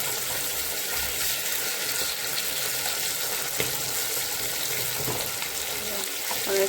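Fresh pond tilapia frying in oil in a pan gives a steady, close crackling sizzle that runs unbroken throughout, with small pops and a few faint clatters of handling.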